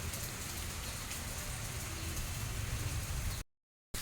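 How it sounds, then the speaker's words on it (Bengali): Steady, dense rain falling outside, a continuous hiss of drops on surfaces with no voices, broken only by a brief dropout near the end. "বাইরের অবস্থাটা দেখুন, কন্টিনিউ বৃষ্টি পড়ে আর বাইরে।"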